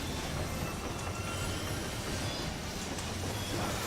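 A train in the video game Final Fantasy XIV rumbles steadily and continuously throughout, a loud, dense rolling roar with faint wheel squeal, no voices over it.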